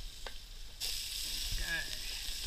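Squid drops into a hot pan and a broad hiss of sizzling starts abruptly, then holds steady and close. A brief voice comes through faintly in the middle.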